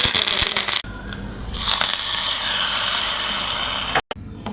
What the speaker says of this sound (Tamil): தாளிப்பு கறி வச்சாச்சு எண்ணெய் ஊற்றியாச்சு இப்போ கடுகு உளுந்து பருப்பு சேர்த்துக்கலாம்